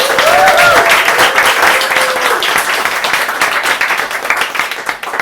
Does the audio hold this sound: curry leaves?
no